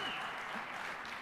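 Audience applause at an international networking-company conference, a steady wash of clapping filling the hall without pause, with faint voices mixed in.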